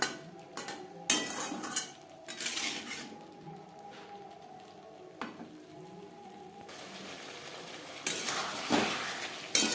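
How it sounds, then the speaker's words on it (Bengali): Cauliflower and potatoes with spices stirred in a pan, a series of metallic scrapes and clinks of a utensil against the pan with a faint sizzle underneath, close and uneven, with no talking. "ফুলকপি আরও 3-4 মিনিট নাড়াচাড়া করে নেব।"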